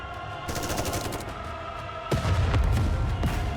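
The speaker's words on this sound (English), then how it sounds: "A bullet flies over and hits Modernia in the back" Gunfire in a video game: a steady stream of loud, dense shots that swells into a heavier, booming barrage partway through, with no talking.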